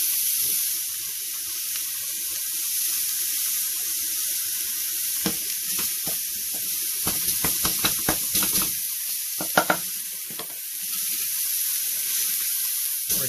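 Sausage fries in a warm pan with a steady bright sizzle throughout, close and loud, broken by scattered clicks and scrapes of a utensil stirring and pressing the meat; no voices.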